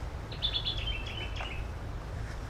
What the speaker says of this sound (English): hope you can hear the beautiful bird song that I can hear.